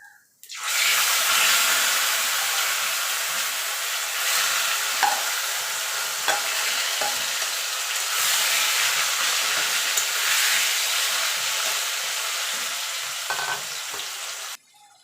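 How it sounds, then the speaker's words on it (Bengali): Taro greens tipped into a hot oil tempering of bay leaf and whole cumin in a Bengali vegetarian kitchen, bursting into a loud, continuous hissing sizzle that holds steady for over ten seconds, then cuts off abruptly. "ফোড়নটা হয়ে গেছে, এবার কচুর শাকটা দিয়ে দেবো"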